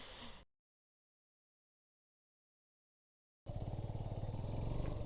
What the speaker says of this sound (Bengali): বাইকটার সাউন্ড শুনেই বুঝতে পারতেছেন